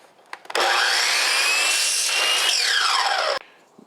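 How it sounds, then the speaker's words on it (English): A power saw cuts the flared end off a PVC pipe in one continuous, loud, close burst of a little under three seconds, with a rising then falling whine as the blade passes through. "Now we cut off all the ends on the PVC here where it's larger and it's fluted here."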